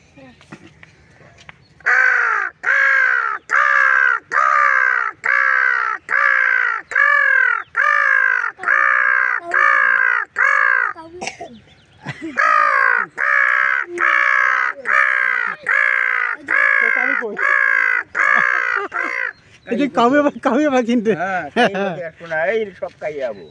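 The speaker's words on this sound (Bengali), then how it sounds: "কাইয়ে পাখি।" A crow caws loudly and close in a long regular series of harsh calls, about one per second, pausing briefly midway before a final burst of rougher, quicker caws.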